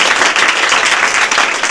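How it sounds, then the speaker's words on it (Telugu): A studio audience claps together after a stage performance on a television show. The clapping is loud and dense and continues without a break from start to finish. "ఏంటి మీ పెర్ఫార్మెన్స్ కి అంతలా చప్పట్లు కొట్టుకుంటున్నారు మీరు?"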